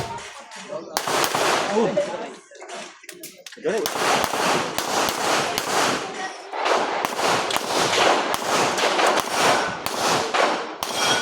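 Gunfire at a ballistics shooting range: bursts of loud, sharp shots fired in quick succession, with short pauses between strings and faint voices in the background.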